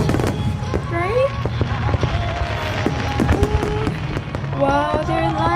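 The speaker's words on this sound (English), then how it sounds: "It's just fireworks, but wow, it's so beautiful" Nagaoka fireworks display: a steady roar of bursts and crackles with whistling rising shells, dense and continuous, while people talk over it.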